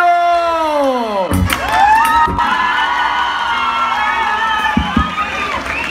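An outdoor concert crowd cheers and whoops for a singer, loud shouting and cheering bursting in after a fading musical tone, with voices mixed in throughout.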